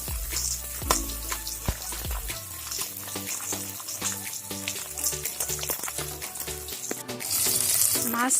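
Pieces of fish sizzle and spit steadily in hot mustard oil in a pan, a dense close frying crackle that swells louder toward the end, with a low rhythmic hum running beneath.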